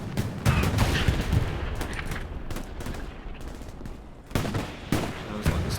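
Dense gunfire and explosions from a battle in the Hell Let Loose video game, including tank fire, with rapid machine-gun bursts and heavy booms rolling continuously at close to mid distance.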